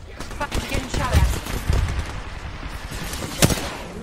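Rapid gunfire in Apex Legends, a busy spread of shots and bursts with one sharp crack near the end, heard under talk in the game.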